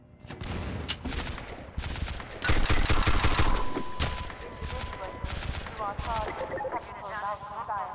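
Rapid gunfire rattles in Half-Life 2 Cinematic Mod, dense bursts of loud close shots, some sustained and overlapping, with brief pauses between volleys.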